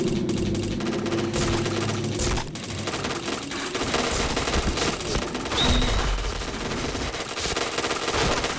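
Rapid automatic gunfire from the online shooter Point Blank, dense bursts of shots running almost continuously at steady loudness, with a brief lull partway through and no clear talk over it.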